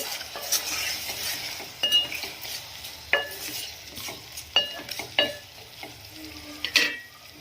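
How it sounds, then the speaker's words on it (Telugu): Tomatoes frying in a pan with a soft, steady sizzle, broken by several sharp clinks and scrapes as a metal utensil stirs and taps the pan, close by and with no talking. "కొంచెం సాఫ్ట్ అయ్యేంత వరకు ఫ్రై చేసుకోవాలి"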